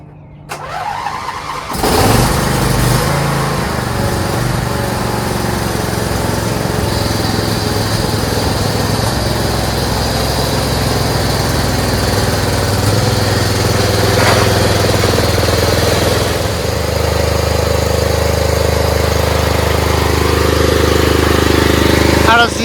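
A Craftsman PYT9000 lawn tractor engine, with a misfire, starts and then runs steadily and loudly up close for about twenty seconds. Its drone is continuous, and the pitch shifts slightly partway through.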